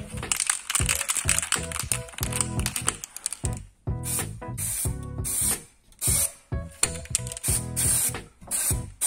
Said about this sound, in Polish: Ale dziwnie to sprayuje